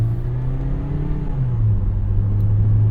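A 2011 Toyota Corolla S engine drones from inside the cabin as the car accelerates toward highway speed, a loud steady hum that rises in pitch, drops briefly at a gear change and then climbs again.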